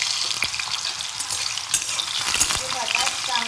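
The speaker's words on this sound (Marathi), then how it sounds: "आता आपण हे बटाट आहे ते फ्राय करूया।" Potatoes frying in hot oil for a pea, soybean and potato sabzi, with a constant hissing sizzle and repeated scraping and stirring sounds from a spoon in the pan.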